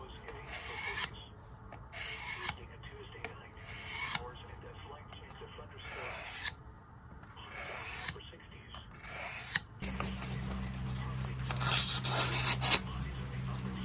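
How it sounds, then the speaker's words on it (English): A Western 5-532 knife blade is drawn across a sharpener in repeated rasping strokes, steady and close, while a person talks over them; a low hum joins near the end. "You just walk it across the sharpener."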